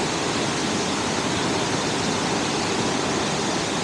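Steady broadband roar of a waterfall and rushing water at the base of falls on the Bronx River, close and loud, constant throughout with no voices.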